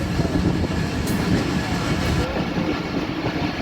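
Steady rumble and rattle of a train running on rails near a station where two steam locomotives stand, continuous and close with faint clicks, no clear talk.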